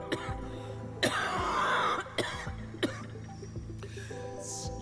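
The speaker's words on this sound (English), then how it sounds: "She breaks in another coughing and collapses to one knee." A female character in the video game Harmony: The Fall of Reverie coughs in several harsh bursts with throat clearing, set against a soft, steady musical backdrop.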